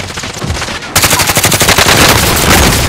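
Rapid automatic gunfire in a battle royale video game, loud, close bursts that become a dense continuous stream of shots after the first second.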